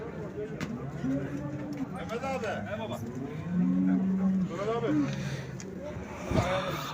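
Dairy cows at a livestock market in Ankara low and moo repeatedly, several drawn-out calls rising over a busy background of people talking, with a vehicle passing nearby.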